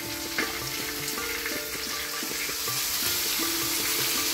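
Mustard paste frying in a pan for shorshe ilish gives a dense, even sizzle close by, with light clinks and scrapes of stirring over a faint steady hum, no voices.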